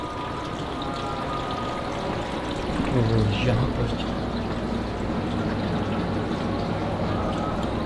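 Water is poured into the tank of a portable air cooler, a soft splashing pour rising briefly over a steady background hum.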